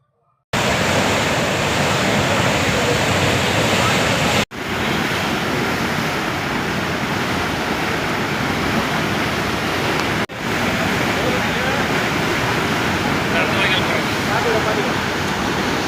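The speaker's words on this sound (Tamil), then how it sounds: "அணையிலிருந்து திறந்துவிடப்பட்ட தண்ணீர்" Water released from Aliyar dam near Pollachi rushes in a loud, continuous roar, a dense unbroken torrent heard up close.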